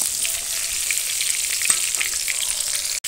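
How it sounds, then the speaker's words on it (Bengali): Eggplant coated in salt and turmeric frying in hot oil, giving a loud, dense, continuous sizzle with small crackles and pops throughout and a brief stirring touch near the end. "তার জন্য বেগুনটা তেলেতে দিয়ে দিয়েছি, উল্টো পাল্টা লাল করে ভেজে তুলে নেব।"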